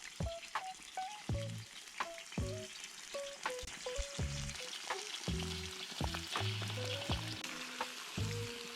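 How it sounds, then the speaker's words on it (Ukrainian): Meat sizzling and frying in a cauldron for Georgian ojakhuri, a steady crackle with repeated clanks and scrapes of a utensil stirring throughout. "Трохи смажимо наше м'ясо з усіх сторін"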